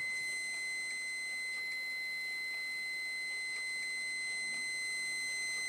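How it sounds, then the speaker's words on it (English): A Chinese Type 75 Geiger counter's alarm: a continuous high-pitched electronic tone rings steadily and loudly throughout, with faint crackling clicks underneath. "let's just put my finger over there because the alarm's going to sound."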